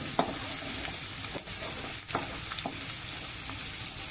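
Garlic frying in a pan until reddish, for a Malvani makul (squid) curry, makes a continuous close sizzle broken by a few spatula scrapes and stirring taps, with no one talking.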